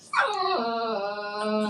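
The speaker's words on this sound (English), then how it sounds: "That's the dog." A dog whimpering in a long, high, wavering whine that slides downward, close and fairly loud, steady for over a second with no talk.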